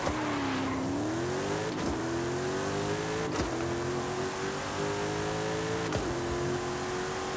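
Toyota Camry tuned with a drag spinner accelerating hard in Forza Horizon 5, a loud steady engine whine climbing in pitch with three sharp gear-shift breaks, no talk.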